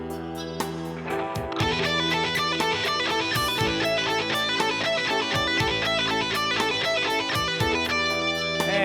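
Economy-picked electric guitar lick with a pull-off, played over a full backing track; a steady, busy pattern of repeated notes runs loud and continuous throughout.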